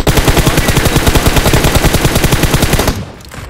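Rapid automatic gunfire in the mobile battle royale game BGMI on the Miramar desert map, a loud sustained burst of evenly spaced shots lasting about three seconds before cutting off abruptly into quieter background.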